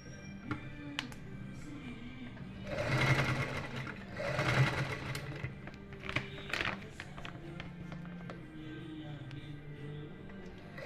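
A sewing machine stitching fabric for an apron made from an old nightie, two loud whirring bursts of stitching in the middle, surrounded by quieter taps and handling at close range.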